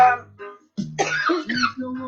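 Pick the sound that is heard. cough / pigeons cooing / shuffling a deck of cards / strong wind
cough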